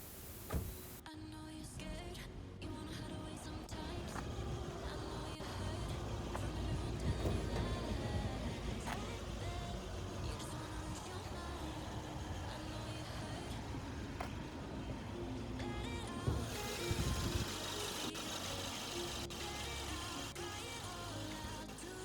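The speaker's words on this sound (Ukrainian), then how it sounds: "покажемо вам зблизька, щоб ви послухали, як працює сам двигун" A Renault Mégane 3 1.6 petrol engine runs at idle, a continuous low rumble with faint ticking, heard up close under the open hood for the whole stretch with no talking.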